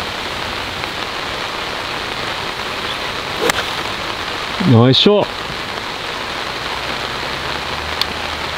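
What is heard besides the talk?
heavy downpour rain on a golf course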